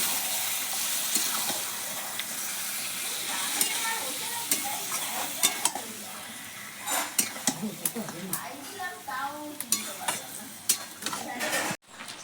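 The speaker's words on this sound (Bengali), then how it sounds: "এইবার আমি মেখে রাখা মাংসটা দিয়ে দেবো দিয়ে কষিয়ে নেব" Marinated goat meat sautéing with ginger and garlic in a hot pan, a steady sizzle broken by repeated stirring scrapes and clanks of a spatula against the pot, with a voice talking over it.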